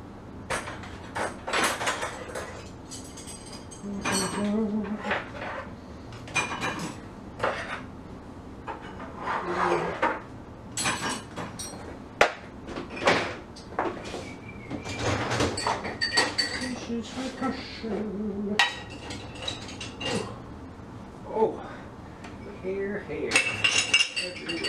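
Dishes and cutlery clink and scrape in a sink during hand washing, in irregular bursts of rubbing and knocking, fairly close, with some talking.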